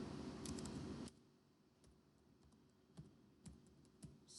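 Typing on a computer keyboard in a quiet room, a short burst of fast clicking followed by a few isolated, sharper keystrokes spaced out, close and soft.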